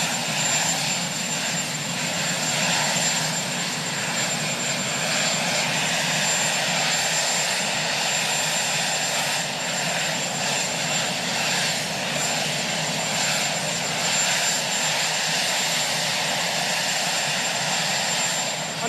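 Helicopter engine and rotor running at the White House, a steady loud continuous drone holding throughout with a faint high whine on top, no talk.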